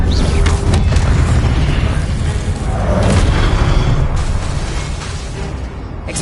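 Confringo blasting spells detonating in Hogwarts Legacy, a loud, sustained barrage of booming explosions and bursting pops that roll into one another with no pause, with little audible talk.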